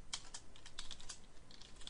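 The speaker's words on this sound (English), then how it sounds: "we type git add" Computer keyboard keys tapped in a quick, light run of clicks while entering a git command, close but quiet, with no one speaking.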